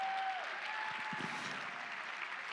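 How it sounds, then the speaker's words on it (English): Applause from attendees at a charity auction live stream, a steady, fairly quiet wash of clapping from a seated crowd lasting the whole moment, with no talking over it. "Ladies and gentlemen, give yourselves a round of applause."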